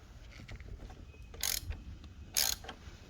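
A ratcheting hand tool working bolts loose on a BMW R1200RT motorcycle, with soft mechanical clicks and two short, bright ratchet bursts close by, no talking.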